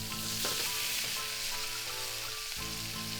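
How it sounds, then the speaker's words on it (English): Scallops frying in a hot pan for a tikka masala dish give a steady, close, loud sizzle that runs unbroken, with a brief stirring or shifting sound near the start and again near the end. "This is the noise you want to hear, sizzling away"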